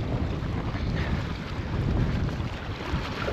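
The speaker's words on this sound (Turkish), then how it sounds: "Bayağı bir rüzgar var." Strong wind at Laguna Negra buffeting the microphone in a constant low roar with gusty swells, loud and close, with no voices.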